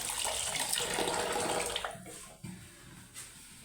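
Water runs and splashes into a container to soak frozen beef in a home kitchen, a steady gush that stops after a couple of seconds, followed by a few faint knocks.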